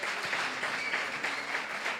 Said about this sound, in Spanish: Otro aplauso más.